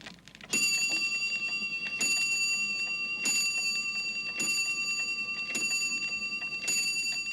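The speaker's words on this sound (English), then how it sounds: "ping went the shop's doorbell" A shop doorbell rings six times in a steady series, each a bright, ringing ping with a lingering metallic tone, close and clear over a quiet room.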